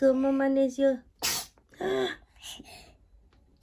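A single sharp sneeze near the start of the second second, coming after a woman's speech and followed by more quiet talk.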